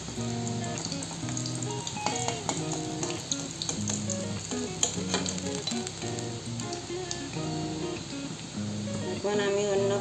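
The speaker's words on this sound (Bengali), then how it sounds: "এখন আমি অন্য পুরগুলো ভেজে নেব" Fish-stuffing balls (kangla fish filling) fry in oil over low heat, giving a steady close sizzle and bubbling crackle throughout with occasional clinks and scraping of a spatula.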